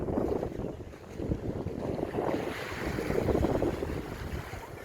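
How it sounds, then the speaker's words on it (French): Ocean waves breaking on the coral reef barrier off Bel Ombre, Mauritius, make a continuous rolling wash of surf that swells and eases, heard from a distance with steady wind buffeting the microphone. "Et les vagues au bout, c'est la barrière de corail qui protège."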